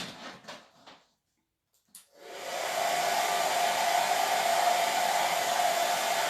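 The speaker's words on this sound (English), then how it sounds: "Maybe I'll use the blow dryer." A blow dryer switches on after some faint handling noises and runs loud and steady with a constant whir, blowing on wet paint on a club craft project.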